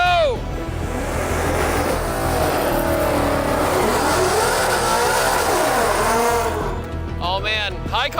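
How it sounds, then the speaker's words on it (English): A custom Ford Mustang's engine revs hard and roars steadily for several seconds, close and loud, with sweeping pitch rises and a throaty rumble, as excited people shout and talk over it. "high car sounds spicy"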